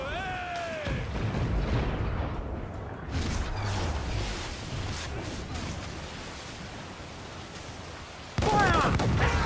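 Cannon fire booms during a naval battle in Assassin's Creed 4 Black Flag, heavy low blasts and rumbling broadsides with whooshing debris, interrupted by shouted commands from the crew.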